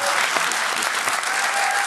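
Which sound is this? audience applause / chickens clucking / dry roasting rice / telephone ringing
audience applause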